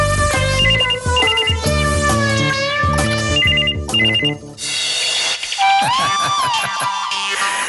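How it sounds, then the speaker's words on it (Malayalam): A telephone ringtone plays loudly at close range, a repeating melodic electronic tune that continues through the whole stretch without talk. "ഫോൺ വിളിക്കുന്നു."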